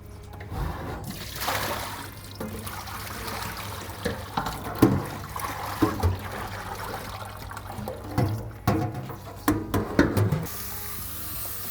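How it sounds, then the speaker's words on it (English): Cool water is poured and sloshed over turmeric tie-dyed fabric in a basin, a close running trickle with intermittent splashes and wet squelching bursts across the span. "I'm gonna start putting water, cool water into it."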